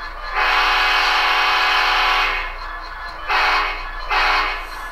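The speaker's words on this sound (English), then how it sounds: "you can hear that it's a slightly different version of the K5LA" Tsunami2 model locomotive sound decoder sounds a K5LA horn: one long chord blast followed by two shorter blasts, loud and close, with a faint hum beneath and no talk.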